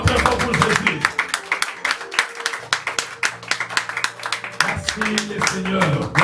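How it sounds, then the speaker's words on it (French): A church congregation at a worship service bursts into loud, sustained clapping and applause, dense and rhythmic, mixed with voices and cheering throughout. "Acclamons très fort pour Jésus"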